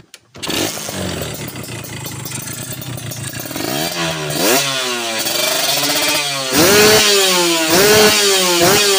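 A warmed-up two-stroke motorcycle engine running on Repsol MXR 2T oil catches after a brief pause and idles with a rattly buzz, then revs up and down in repeated swells, loud and close.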